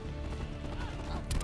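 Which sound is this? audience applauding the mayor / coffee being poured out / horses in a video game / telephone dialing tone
horses in a video game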